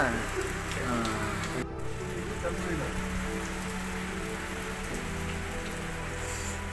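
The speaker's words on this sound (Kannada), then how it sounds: "ಮಳೆ ಬರ್ತಾ ಇದೆ ಮಳೆಯಲ್ಲೇ ಇದು ವಿಡಿಯೋ ಮಾಡ್ತಾ ಇದ್ದೀನಿ" Steady rain patters on surfaces throughout, a dense continuous hiss with a brief dropout partway through and a voice murmuring faintly beneath.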